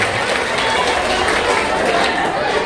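Crowd applause for a young boy at a Maulid Nabi gathering, a dense, steady wash of clapping that holds at one level for the whole stretch.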